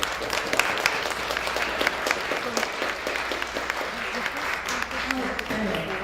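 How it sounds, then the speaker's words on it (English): A conference audience applauds its event sponsors with sustained, even clapping throughout, while voices murmur faintly underneath. "a round of applause for our sponsors"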